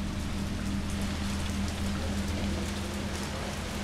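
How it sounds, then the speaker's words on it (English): Steady, dense downpour of heavy rain hissing continuously, with a low droning hum underneath throughout, in the video game Resident Evil 3 Remake. "That is some hard rain."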